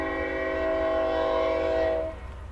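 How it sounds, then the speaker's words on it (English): A train sounds its horn in a long, steady chord, loud and close as it passes, with rumbling rail noise underneath; the horn cuts off abruptly near the end and leaves the lower rumble. "Let the train go by again."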